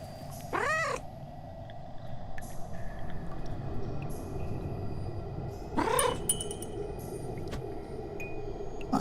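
A cat gives two drawn-out, wavering meows spaced several seconds apart over a steady background rumble, close and clear.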